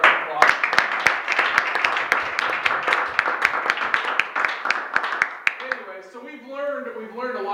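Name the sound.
audience applause for the Bible college students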